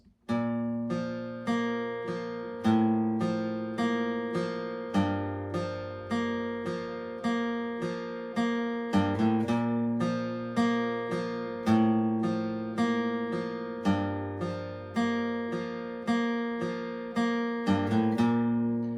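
An acoustic guitar plays a song alone, close and clear, with picked single notes and chords ringing in a steady rhythm that builds into light strumming.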